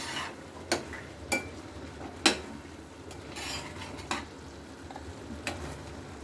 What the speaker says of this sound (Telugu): ఇట్లా మూత తీసుకుంటూ మధ్య మధ్య అడుగు కాకుండా కలుపుతుండాలి